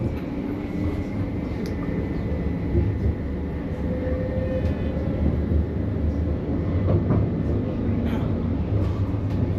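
A Newcastle Light Rail tram rolls along from inside the passenger cabin, giving a steady low rumble and hum with faint rattles, continuous and fairly loud throughout, with occasional soft voices in the car.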